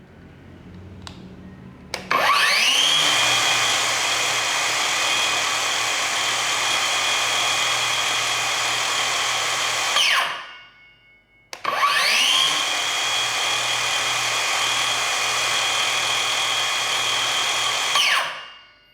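A DCA ADMY02-185 cordless brushless circular saw runs at no load in two long bursts, each a loud steady high whine that spins up quickly and winds down as the brake stops it, with a short pause between.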